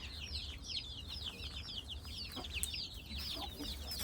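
Native country chickens on a poultry farm in Bhatkal, Uttara Kannada, clucking continuously in a busy overlapping chatter at moderate distance, with no one speaking.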